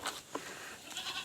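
Goat bleating on a free-range farm in hot summer weather, two short bleats near the start and end with a faint call between, fairly close, over outdoor background noise.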